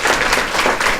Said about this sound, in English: give all these volunteers and elves a big round of applause